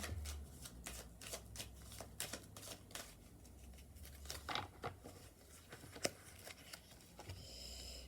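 Tarot cards are shuffled quietly and close by, giving soft riffling and flicking bursts with a few sharper snaps.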